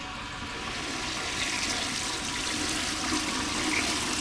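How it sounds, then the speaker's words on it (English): A newly plumbed toilet in a truck cabin flushes, giving a steady, fairly close rush of water that runs evenly for several seconds without letting up and without speech. "We're gonna have a flushing toilet."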